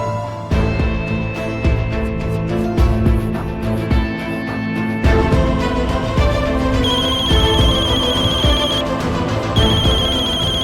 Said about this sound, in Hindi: सुनिए, आपका फोन बज रहा है।